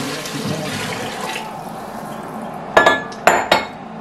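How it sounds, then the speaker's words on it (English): Vegetable stock pours into a pot for minestrone with a continuous liquid rush, followed by a few sharp metallic clinks of pot and utensils near the end, close by in a home kitchen. "Now I am going to pour in all the rest of the stuff. So I have 4 cups of the vegetable stock."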